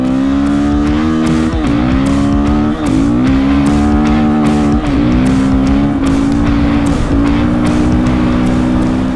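A motorcycle accelerates hard at high speed, its loud, close engine whine climbing in pitch again and again as it shifts up through the gears, with no talking.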